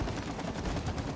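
Rapid gunfire in the It Takes Two video game, a dense continuous burst of shots lasting just over a second, fairly loud with no talking.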